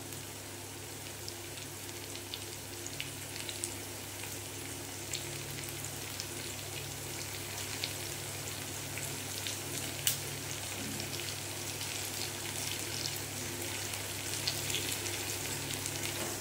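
Potato and chickpea curry seasoned with turmeric, salt and chopped chilli fries in a pan, a steady, quiet sizzle and crackle holding evenly throughout without speech.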